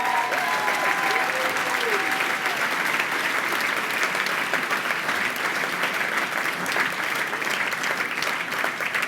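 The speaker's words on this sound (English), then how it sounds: "a big round of applause" A large gala audience gives steady, sustained applause, dense clapping that holds at an even level throughout with a few faint voices underneath.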